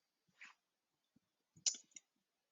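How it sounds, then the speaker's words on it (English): A computer mouse clicking a save button in a contact-management setup, with a few short, faint clicks in a small cluster against near silence. "I'm gonna click on save."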